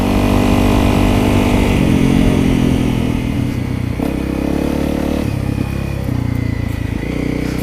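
Honda CRF250L Rally dual sport motorcycle being ridden on the Eglin Reservation trails: a loud, steady engine drone close to the rider, with the pitch dipping and climbing through several gear shifts and throttle changes.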